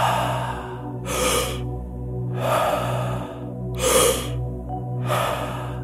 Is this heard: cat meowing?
no